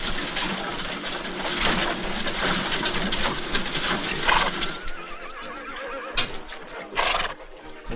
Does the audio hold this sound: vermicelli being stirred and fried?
no